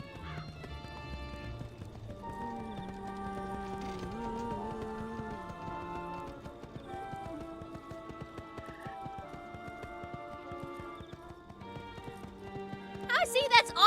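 Flying horse mount in the video game Wizard101: clip-clop hoofbeats and horse sounds in the game audio over a bed of background music, ending with a brighter flourish.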